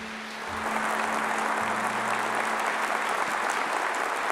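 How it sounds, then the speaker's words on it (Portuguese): A Catholic congregation applauds loudly during a sermon, the clapping swelling after a quiet start into a thick sustained roar, with a low hum of sustained tones underneath. "então aplauda para valer"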